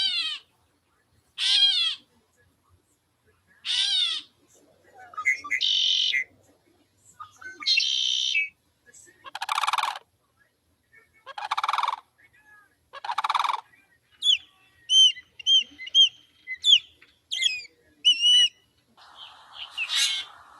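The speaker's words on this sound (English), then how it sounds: "Birds." Birdsong outdoors: a series of clear, separate chirps, trills and whistled phrases, some with rising or falling sweeps, repeating every second or two at moderate loudness with quiet gaps between, followed by a faster burst of short high notes.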